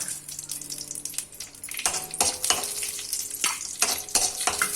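Cashew nuts frying in ghee in a pan, a bright continuous sizzle with repeated stirring scrapes and light clinks of the spoon against the metal.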